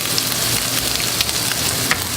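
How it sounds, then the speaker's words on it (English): Blackened redfish sizzles loudly in a hot pan, a steady crackling hiss with scattered sharp pops. "look for that sizzle"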